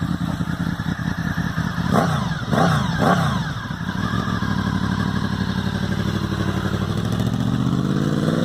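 Honda VFR motorcycle with gear-driven cams and an aftermarket exhaust, its engine rumbling loud and close with a few sharp revs and mechanical clatter early on, then a steady idle-like drone to the end.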